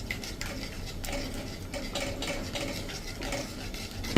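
Spoon stirring curd into a vegetable curry in a pot, with a steady scraping rhythm of repeated strokes close by, sounding alone.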